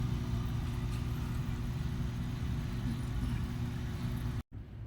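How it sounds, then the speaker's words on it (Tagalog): A steady low mechanical hum from a SOBO SB-738 3W aquarium air pump under continuous hissing airstone bubbling, unbroken for several seconds apart from a brief cutout near the end. "mas maririnig mo pa yung tunog ng airstone kaysa doon sa air pump."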